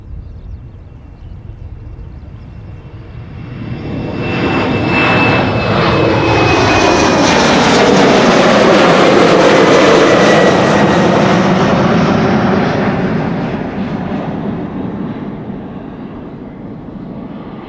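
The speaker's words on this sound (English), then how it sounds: "This is KLM Flight 1293, Embraer 190 to Billund." A KLM Embraer 190 jet passes at an airport, its engine roar swelling from a distant rumble to a loud, broad whoosh and then fading away, with no voices.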